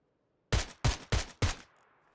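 Four sharp gunshots crack in quick succession in the video game PUBG, evenly spaced and loud, each with a short decaying tail, followed by quiet.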